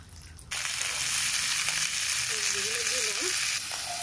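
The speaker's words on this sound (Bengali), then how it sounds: "এখন সবজিগুলো এখান থেকে ধুয়ে কড়াইতে দেবো" Freshly washed mixed vegetables hit a hot kadai of spiced, ginger-heavy tempering with a sudden loud, close sizzle that starts after a brief quiet moment and holds as a steady, intense frying hiss to the end.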